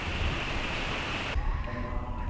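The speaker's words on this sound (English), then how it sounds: "I'll have to go check once the rain is done, but man, it is crazy right now." Heavy rain pours onto a garden with raised beds, a dense, loud hiss of drops that suddenly drops away partway through to quieter dripping and background hum.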